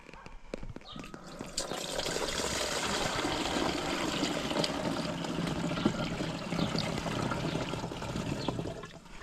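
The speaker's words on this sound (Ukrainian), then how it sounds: "Головне перелити в оприскувач, а не поза оприскувач." Liquid fertilizer pours into a garden sprayer in a raspberry-growing setup, a steady close gush and splash of liquid lasting throughout, with no clear talk.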